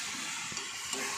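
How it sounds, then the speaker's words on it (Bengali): Spice paste thinned with a little water hits a hot frying pan, a dense steady hiss of sizzling with faint stirring, close and alone. "বাটিতে যে মশলাটা ছিল তাতে একটু জল দিয়ে আমি পুরো মশলাটা দিয়ে দেবো এতে"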